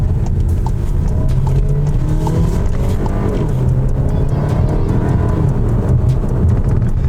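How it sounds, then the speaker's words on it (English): A 2024 VW Tiguan Highline R-Line SUV pulls hard in first gear after a downshift, its engine a steady, loud rumble that holds throughout with a faint rising drone. "give it a little downshift again. So now we're in first, and then you can get more responsiveness"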